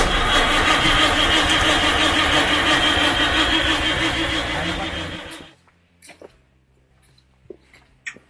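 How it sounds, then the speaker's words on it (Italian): A classic Citroën car engine cranks and runs loudly for about five seconds, then cuts off abruptly, leaving a few scattered clicks and knocks in near silence. "Vediamo ora se va in moto."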